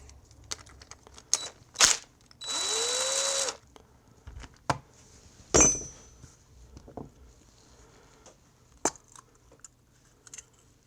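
Parts clatter and click as the carburetor fuel bowl comes off a surging Troy-Bilt snow blower, with scattered sharp metallic taps, a sustained hissing burst of spray, and brief scrapes at close range between quiet pauses.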